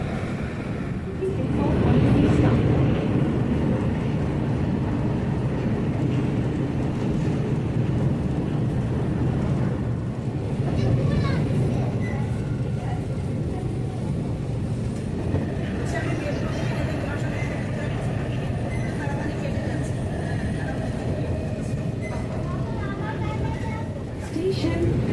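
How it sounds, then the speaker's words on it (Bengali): Kolkata Blue Line metro train pulling away from Sovabazar Sutanuti station, a steady broad rumble and whine of the carriages under continuous talk, running the whole time with a slight swell early on. "আর মেট্রো ছাড়বে এই মুহূর্তে শোভাবাজার সুতানুটি মেট্রো স্টেশন থেকে"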